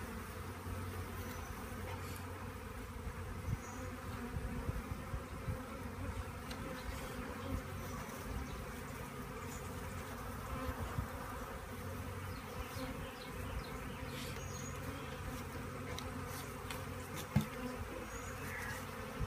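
Honeybees buzz steadily around an open hive as it is being tended, a dense, continuous hum close by that holds throughout with little change.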